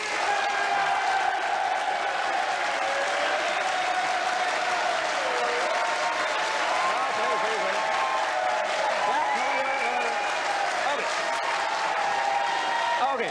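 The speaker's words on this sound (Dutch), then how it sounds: "Oké, u gaat zo meteen applaudisseren." Studio audience on a 1994 KRO Dutch television show applauding steadily, a dense sustained clapping with light crowd noise throughout, loud and continuous with some voices mixed in.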